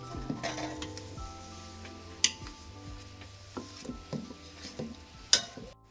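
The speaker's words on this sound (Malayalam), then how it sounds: "അത് ചേർത്ത് നല്ലപോലെ ഇളക്കുക" A spoon stirs raw mango pickle with a fenugreek spice mix and strained mango water in a metal vessel, giving soft scraping swirls and a few sharp clinks against the rim. No one talks.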